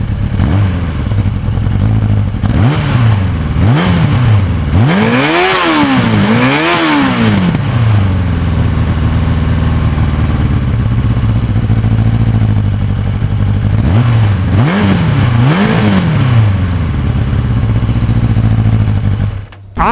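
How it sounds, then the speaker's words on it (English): A 1989 Suzuki GSX-R 750 with an air-cooled four-cylinder engine revs hard several times, rising and falling in quick blips over a steady idle, loud and close with no talk. "The way this motorcycle sounds is completely street legal, and it's just such a special sound with the air-cooled, high-revving 4-cylinder."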